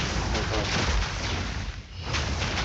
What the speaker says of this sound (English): so that you can hear me well over the sound of explosions